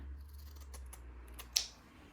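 Quiet scissors snip through fabric a few times, soft crisp cuts ending in one sharper snap over a low background hum.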